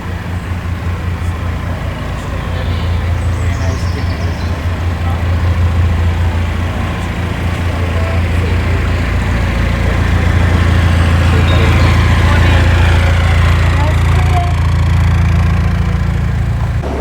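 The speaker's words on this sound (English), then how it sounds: "just a boat coming" An approaching boat's engine drones low and steady throughout, swelling slightly louder toward the end as if drawing closer, with faint voices in the background.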